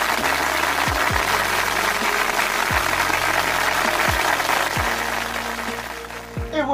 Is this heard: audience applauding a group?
yes